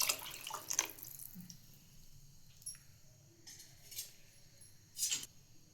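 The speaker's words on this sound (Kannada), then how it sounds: "ಈ ಬೌಲಿಲ್ಲೇ 2 ಬೌಲ್ ನೀರು ಹಾಕೊಳ್ಳೋಣ್ರಿ." Two bowls of water poured from a bowl into a pot of rice for fenugreek pulao, a quiet splashing in short bursts near the start and again near the end, with soft kitchen clatter between.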